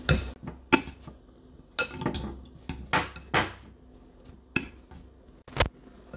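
Baked potato pulp is mashed in a glass jar with a utensil, giving irregular close clinks and knocks against the glass between quiet gaps.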